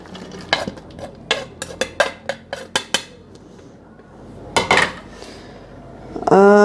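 Garlic and onion go into a beef karahi pot, heard as a series of sharp metallic clinks and scrapes of a utensil against the pot, then a rising sizzle as they hit the hot oil.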